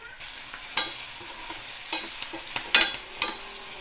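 Spices frying in a pan for poha, a soft oily sizzle underneath with a few sharp scraping stirs of a spoon against the pan spaced irregularly, close by and moderately loud, no talking.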